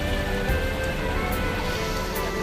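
Light rain falls steadily at a bus stop where a Sembodo SE 904 Mercedes-Benz OF1623 coach is parked, a soft continuous hiss with faint scattered drops throughout.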